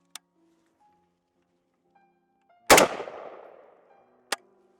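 A single sharp, loud shot from a US-made L85/EM85 pre-production rifle on an outdoor range, with a long decaying echo, then a short crack about a second and a half later.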